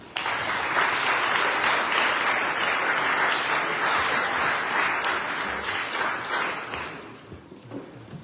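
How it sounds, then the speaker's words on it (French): A council chamber crowd applauds a newly elected deputy mayor at an installation meeting, a dense, steady burst of many hands clapping that slowly thins and fades out near the end. "On peut l'applaudir aussi."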